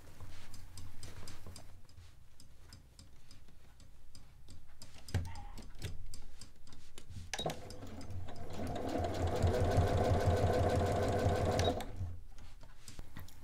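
A sewing machine stitches a fabric scrunchie in short starts at first, then settles into a louder, sustained run of fast needle clatter near the machine, stopping abruptly before the end.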